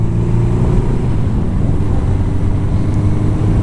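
A carbureted Suzuki GS 750 motorcycle engine runs close up, a steady loud rumbling drone throughout the short clip with no talk.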